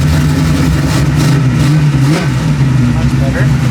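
A 1989 Ford Mustang notchback with a freshly rebuilt carburetor runs loud and close, a steady low engine rumble with a slight rise in revs, and a voice talks over it.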